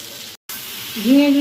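Sliced ridge gourd drops into a hot pan with tomato and onion and sizzles loudly, a brief silent gap midway, then a hissing surge with a rising whistle-like tone as stirring continues.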